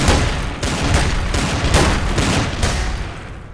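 Rapid gunfire in the video game Trouble in Terrorist Town, a loud burst of repeated close shots in quick rhythm, slowly easing off toward the end, with no talk over it.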